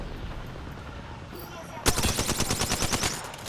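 Rapid automatic gunfire in a video game, a sharp onset followed by a steady burst of loud, closely spaced shots, after a stretch of low background game sound.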